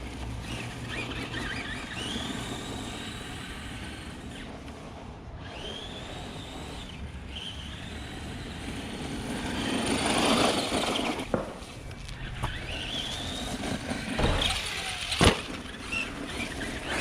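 Arrma Granite Voltage electric RC truck spinning donuts on loose ground, a steady whining motor hum with rising and falling pitch sweeps that recur as it circles, fairly close and continuous.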